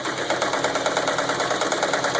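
A serger sewing machine runs at speed with no fabric, chaining thread, its rapid mechanical whir and ticking steady and close throughout.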